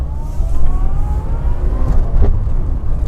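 An Austin Metro's A-Series engine revs loudly and close up, its pitch sweeping upward in a steady rising whine with a continuous throaty drone underneath.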